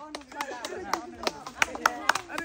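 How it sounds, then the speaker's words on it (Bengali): Sharp, irregular claps from a few people sound over lively talking and calling voices, close by. "সবাই হাততালি, হাততালি, হাততালি"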